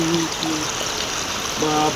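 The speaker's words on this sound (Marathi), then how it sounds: "जसा पाऊस पडेल तसं पाणी वाढतंय आणि मोठ्या प्रमाणात महापूर वाढलेला आहे" Floodwater swollen by heavy rain rushes in a continuous, loud, broadband roar that fills the whole stretch, with a voice speaking faintly over it.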